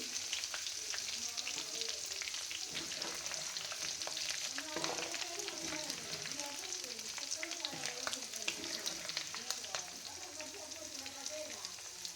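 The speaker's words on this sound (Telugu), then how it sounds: "తిరగమాత వేగిందండి." Tadka of crushed shallots tempering in hot oil for tomato chutney, a constant crackling sizzle with small popping bursts and occasional stirring, close and moderately quiet, no voices.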